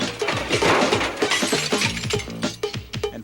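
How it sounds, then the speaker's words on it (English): A glass basketball backboard shatters during a dunk, a loud, sustained crash of breaking glass with tinkling fragments rattling down in quick bursts. "Glass shattered all over the floor."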